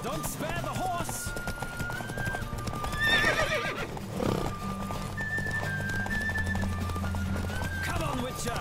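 A galloping horse pounds along in a race in The Witcher 3, hooves drumming continuously while it neighs loudly a couple of times, over background music and spoken game dialogue.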